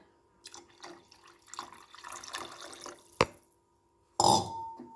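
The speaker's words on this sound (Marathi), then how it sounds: "तितकं मी यामध्ये पाणी टाकून घेते आता" Water is poured into a cooking pot while making a tomato curry, small splashes and trickles leading to a short sharp clank, then a brief louder gush of liquid near the end.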